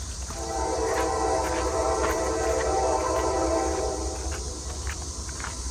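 A train passes close by on a nature trail at Boiling Springs, its loud steady rumble and rolling clatter swelling and holding for several seconds before slowly easing, with no voices over it.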